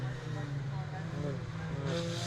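Mini race cars at BRX 2019 round 4 run on a tarmac circuit between Senna's and Ollies, a steady engine drone holding through the clip under a race commentator's voice.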